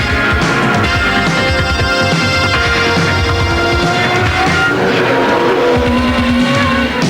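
An IndyCar races past street cars, a loud, continuous high-revving engine roar with shifting pitch and tyre squeal, close and intense throughout.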